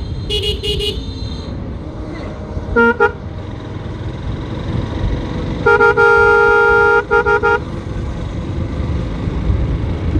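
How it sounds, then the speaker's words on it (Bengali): A big loud aftermarket horn on a motorbike honks at auto-rickshaws in city traffic, several short blasts then one long sustained blare over engine and road noise. "এই অটোগুলো আসলে সাইড দিতে চায় না, এই জন্য আর কি বড় হরেন লাগাইছি।"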